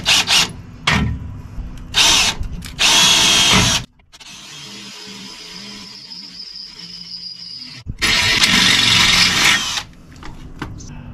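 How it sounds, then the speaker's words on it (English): A power drill whirs in several loud bursts while boring a hole for the wiring of submersible LED reverse lights, with a quieter hum and clicks between runs. "And so now I have my mark where I'm gonna drill the hole for the wiring."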